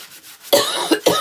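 A person coughs twice in quick succession, close and fairly loud, after a short quiet pause.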